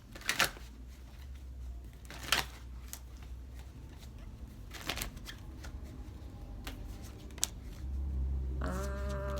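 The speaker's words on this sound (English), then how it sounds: "Cards don't want to shuffle." Tarot cards being shuffled with scattered crisp riffles and snaps at a quiet level, followed near the end by a low hum and a brief tonal sound.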